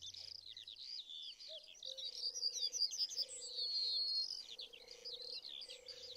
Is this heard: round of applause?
no